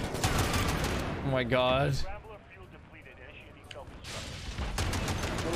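Heavy automatic fire from a shield turret in the video game Modern Warfare, loud sustained bursts with a quieter lull in the middle, mixed with game voices and a player exclaiming over it.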